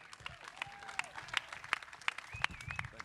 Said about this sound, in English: Let's give a huge round of applause to Jim McCallion.